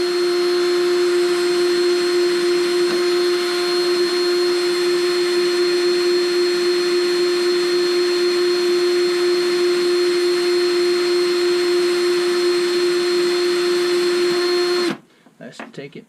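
A power drill whirs with a constant high-pitched whine for about fifteen seconds while drilling out a motor bushing, then cuts off abruptly, leaving faint clatter.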